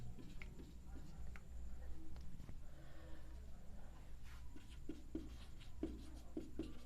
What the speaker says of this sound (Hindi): अभी लिख रहा हूँ